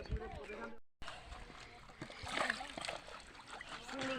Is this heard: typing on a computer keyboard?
no